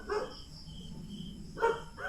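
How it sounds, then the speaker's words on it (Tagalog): A dog barks twice from some distance near a house on a mountain, short sharp barks spaced apart, with crickets chirping faintly in the night background. "nakita tayo may aso kasi. Kaya maingay."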